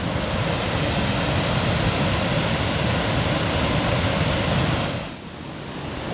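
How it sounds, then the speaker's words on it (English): Steady roaring rush of a jungle waterfall in Thailand, loud and close, a dense wall of falling water that dips briefly near the end. "Look, I'm on the waterfall."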